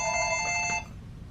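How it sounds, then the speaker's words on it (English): Telephone bell rings steadily with a bright tonal trill for most of a second, then stops, leaving quiet room tone. "the phone ringing constantly at lunchtime"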